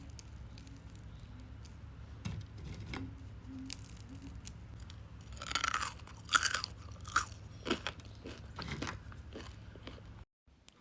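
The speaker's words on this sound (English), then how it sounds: "Let me show you how crunchy it is." Crunchy air-fried tofu cubes, hard like croutons, being bitten and chewed close up, giving a run of sharp dry crunches that grow louder midway, then an abrupt stop.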